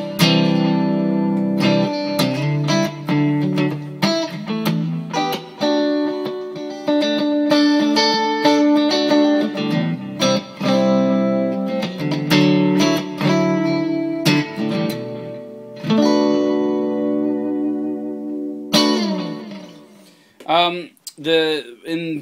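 A Stratocaster electric guitar played through compressor, delay and reverb pedals rings out in sustained chords and picked notes with long echoing tails. Quick bursts of strumming and muted notes come near the end.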